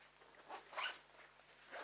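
Quiet, close rasp of a double zipper on a small bag being pulled open, a few short scratchy strokes with a brief louder burst midway.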